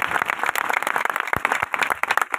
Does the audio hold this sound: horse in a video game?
no